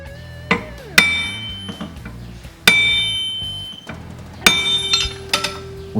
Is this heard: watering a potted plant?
no